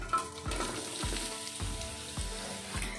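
Chopped garlic and onion fry in sesame oil with a dense, steady sizzle, broken every half second or so by stirring scrapes that briefly lift the crackle.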